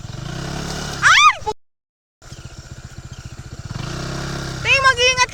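Someone's motorcycle engine, smoking, putters with a rapid, steady rhythmic chug close by, broken by a short silence, while voices talk over it and sharp whistling sounds rise and fall.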